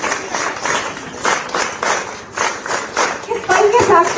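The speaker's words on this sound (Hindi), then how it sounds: "अपने उत्साह, अपना आदर इन तालियों में प्रदर्शित करिए।" A crowd claps in rhythmic bursts at a building inauguration for an intercollegiate school in Yamkeshwar, loud and close, with voices mixed in toward the end.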